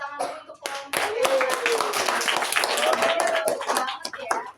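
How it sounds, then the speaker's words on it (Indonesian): Classroom students clap for a group during a microteaching lesson, several short bursts of hand clapping mixed with a teacher's voice talking throughout. "kita tepuk tangan dulu untuk kelompok ya."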